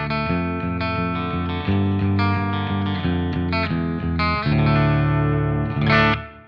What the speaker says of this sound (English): I've got the Fractal original Class A amp here as my clean amp, so let's hear what that's doing before we add the pedal in.